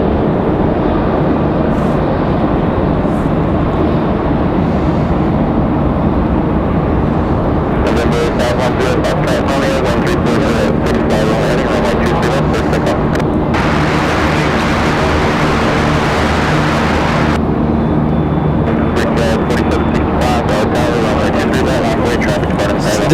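A smoky jet airliner departing runway 23 right at Raleigh-Durham International roars continuously at close range, a loud sustained engine rumble with a brief surge of brighter hiss partway through.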